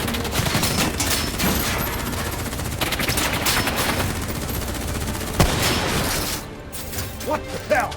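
Rapid automatic gunfire and bursts crackle through a Call of Duty Black Ops 3 firefight, dense and loud throughout, with a sharp crash near the end and voices mixed in.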